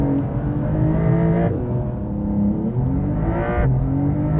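A Porsche 911 (992) GTS with the Lightweight Pack accelerates hard, engine pitch climbing through gears with two sharp shift drops, loud and close.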